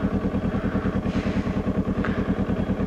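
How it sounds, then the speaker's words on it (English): A motorcycle engine idles with the clutch out, a close, steady rhythmic chugging of rapid even pulses running throughout. "this is just the idle speed of the engine"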